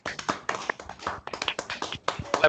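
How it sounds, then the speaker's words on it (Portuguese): Applause from several people clapping over open microphones on a video call, a dense, uneven run of sharp hand claps lasting a few seconds at moderate level. "E aí vai rolar aquela salva de palmas"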